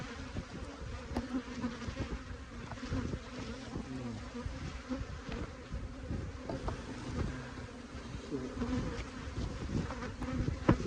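Honey bees buzzing around an open hive during a split and queen cell removal, a dense continuous drone of many insects close to the microphone, steady throughout with no speech.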